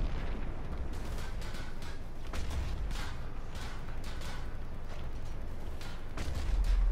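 Planetside 2 battle noise from tank weapon fire and explosions: a constant low rumble with repeated heavy booms and bursts scattered through it, mid-distance and fairly loud, with no clear talking.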